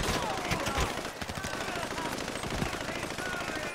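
Gunfire in the video game GTA 5, dense rapid bursts of automatic shots crackling continuously, with players talking over the shooting.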